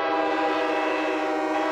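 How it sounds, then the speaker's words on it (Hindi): A big ship's horn, cartoon-style in a children's animated series, holds one steady, loud, tonal whistle-like blast that sounds alone and without a break. "इसकी आवाज बिल्कुल हमारी सीटी जैसी है"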